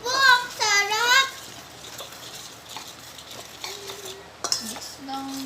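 A spoon stirs corn dog batter in a bowl with soft scraping and clinking. Speech and a few tonal sounds run over and between the stirring.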